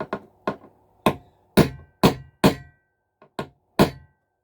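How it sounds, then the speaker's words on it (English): Light toffee hammer taps striking small pins into O gauge model railway track, around nine irregular knocks with short gaps between, close by and clear with no voices. "I'm using a little toffee hammer."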